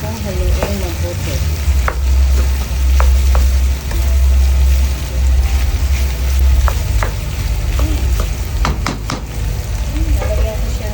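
Pork, first simmered briefly, is stirred for pork tausi in a pan, with a steady sizzle and repeated scraping and clinking of the utensil against the pan throughout.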